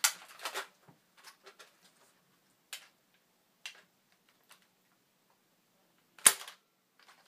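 Nerf guns fire at targets in a one-on-one shooting match, giving sharp close snaps and clicks: a quick cluster at the start, scattered single shots, then one louder crack near the end, set against near-silence.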